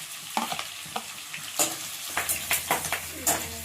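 Onion is stir-fried in a pan for vegetable avalakki, with a soft sizzle under repeated scraping and tapping strokes of a spatula against the pan, close and irregular, with no voices.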